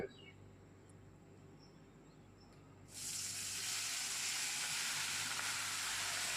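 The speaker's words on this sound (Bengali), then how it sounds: "এবার ওই ম্যারিনেট করে রাখা মাংসটা আমরা কড়াইতে ঢেলে দেব" Marinated goat meat hits a hot kadai and bursts into a loud, steady sizzle after a quieter start, the frying hiss holding strongly to the end.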